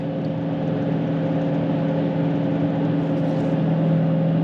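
Steady engine drone from a manual Dodge Challenger Hellcat V8, heard from inside the car, with even harmonic tones held at a constant level throughout and no clear blip of a rev match.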